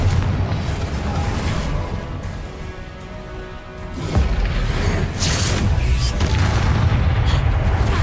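Confringo explosion spell from the video game Hogwarts Legacy, deep booming blasts and rumbling crashes rolling on continuously, with a heavier impact around the middle.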